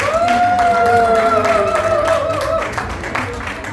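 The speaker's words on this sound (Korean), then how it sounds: "큰 박수 한번" Banquet audience in a wedding hall breaks into applause for a newly installed alumni association president, steady clapping under a voice speaking over it, easing slightly toward the end.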